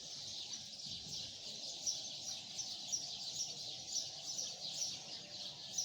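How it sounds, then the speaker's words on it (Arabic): Small birds chirping and tweeting outdoors in the morning, a steady chorus of high, quick calls over faint background ambience, with no speech. "تعالى اوريكم بقى صوت العصافير والمنظر الحلو ده"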